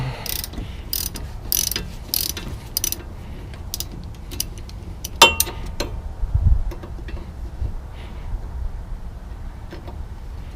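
A 17mm wrench working on a 12mm caliper bolt at the rear disc brake of a salt-worn 2006 Honda Civic, with repeated close metallic clicks and ratcheting taps, a few sharper clanks and a low background hum.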